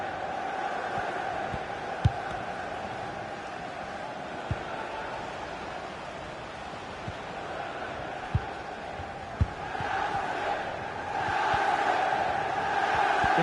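A football stadium crowd at a Chelsea match keeps up a steady, distant roar that swells slightly toward the end, with a commentator talking over it.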